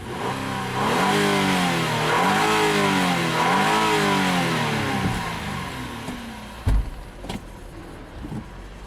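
A 2009 Mazda 6 V6 engine with 97,000 miles revs up and down in several smooth swells, then settles back toward idle, followed by a few clunks and thumps.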